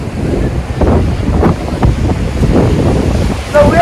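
Ocean waves roll onto the seashore at Dwarka, a loud, rumbling surge of surf mixed with heavy wind buffeting the microphone, rising and falling in broad swells.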